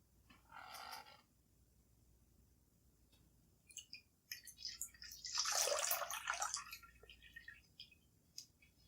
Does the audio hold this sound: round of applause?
no